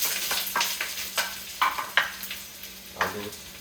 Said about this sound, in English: Time for me to do my fry up onions.